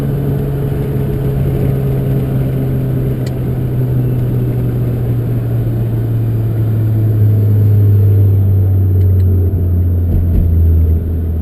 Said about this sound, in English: And then the downshift, you just use the left paddle, or you can use the gear selector.